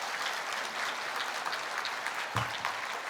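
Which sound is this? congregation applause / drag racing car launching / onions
congregation applause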